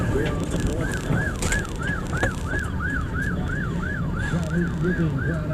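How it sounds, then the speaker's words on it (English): A wailing emergency vehicle siren rises and falls in rapid regular cycles during the 9/11 attacks, loud and steady over background noise and a bit of talk. "We're being drowned out by the sirens."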